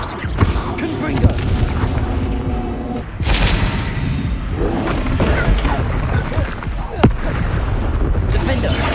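Repeated Confringo fire spell blasts in the Hogwarts Legacy game go off amid battle noise: several booming, crackling impacts, one heavy burst partway through and a sharp hit later, with shouted spell names over them.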